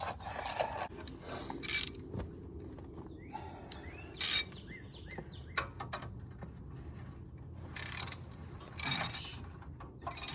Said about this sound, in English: Now I will start turning it a little bit and make sure the bolt doesn't turn.